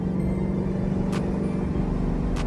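A 2011 Mustang GT in third gear on a freeway on-ramp, a steady low engine and intake drone with road rumble from inside the cabin, two brief scraping bursts breaking through.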